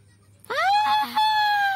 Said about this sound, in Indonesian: Dinda mendengar suara teriakan dari arah dapur.